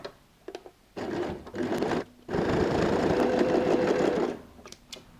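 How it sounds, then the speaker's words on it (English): Sewing machine stitching a leather handbag panel, running in bursts of steady rapid whirring and clatter, close and loud, with brief pauses and small clicks in between. "go and sew a stitch on top of the stitch that I've already sewn"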